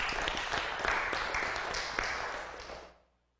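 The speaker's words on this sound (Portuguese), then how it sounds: "Vamos aplaudi-lo." Audience applause at a Brazilian television afternoon variety show, a dense burst of many hands clapping nearby that holds steady for a few seconds and then quickly dies away to silence.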